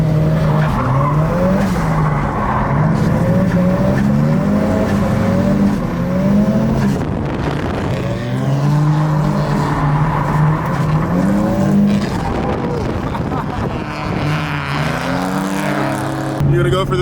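A car drifts at a drift event, its tires squealing in long wavering howls over a steady revving engine, loud and close throughout with brief pauses between slides, while people talk underneath.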